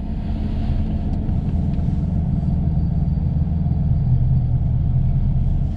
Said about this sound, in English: that beautiful diesel engine